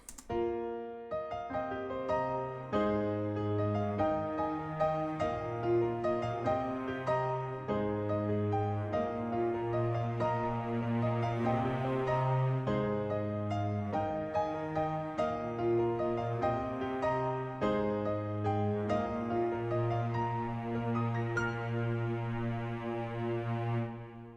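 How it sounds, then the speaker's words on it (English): Sustained low cello notes carry a bass line beneath a fuller harmonic accompaniment, each tone held long before shifting to the next, steady and loud throughout. "So that started off with the addition of a cello line to play the bass notes of the chords."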